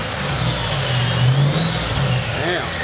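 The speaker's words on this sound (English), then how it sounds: "I don't want to rev it too hard." A Mercedes SL55 AMG with the supercharged M113K V8 revs in cold weather, a steady close engine drone rising gently in pitch and easing back down over a few seconds.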